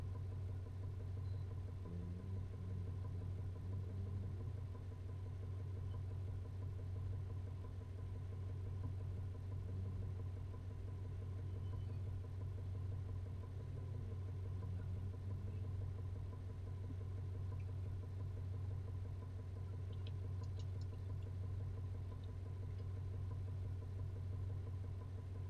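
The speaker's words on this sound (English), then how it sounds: "What is that noise? Oh, it's probably a car." A steady, low engine drone hums on without a break, with a faint higher tone coming and going partway through.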